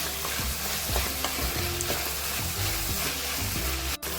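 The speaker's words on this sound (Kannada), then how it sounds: "ಈಗ 1 ಕಪ್ಪು ಹಸಿ ಬಟಾಣಿ ಹಾಕ್ತಾ ಇದ್ದೀನಿ" Fresh green peas stirred while frying in a pan for a paneer masala, a steady close sizzle with repeated scraping strokes of the spoon, no talking.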